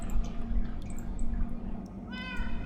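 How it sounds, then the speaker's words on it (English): A single meow from a Minecraft cat sounds near the end, bright and harmonic, over a constant low background hum from the video game. "Love these cats, man."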